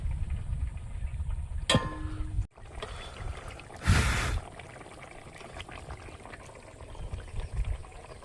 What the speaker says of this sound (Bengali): জল দিয়ে দেবো তরকারিটা আলগা করে দেখে নেবো